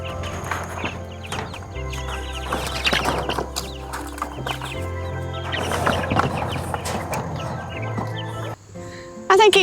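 Chickens clucking on an Appalachian mountain homestead, close and mixed with other farm animal noise and sounds of movement, some bursts louder than others.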